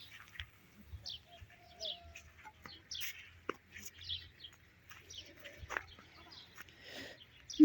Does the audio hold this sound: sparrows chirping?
yes